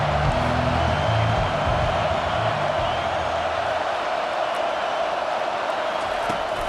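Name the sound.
football stadium crowd getting loud on third down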